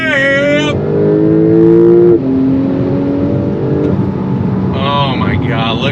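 A 2025 Porsche 911 Turbo S accelerates hard on throttle, its engine note loud and close and climbing steadily through the gears with a brief shift break, while a voice exclaims over it.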